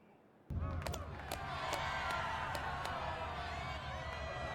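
Hostile arena crowd in a sci-fi video game roars and shouts continuously after a sudden onset, a dense wall of voices with sharp whoops and jeers cutting through.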